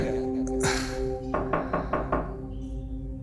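Knuckles rap five times in an even rhythm on a toilet stall door, close and solid, over a low steady hum in a horror radio drama.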